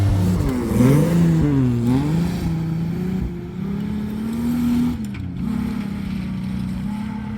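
Mitsubishi Magna street stock race car engine droning steadily at close range, rising and falling in pitch as it revs through laps, with no talk over it.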